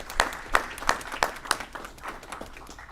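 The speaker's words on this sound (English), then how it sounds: "a round of applause for Dan Barrero" Scattered applause at a city council meeting: a handful of distinct, separated claps in a loose rhythm that thin out and fade, sounding like a small room of people.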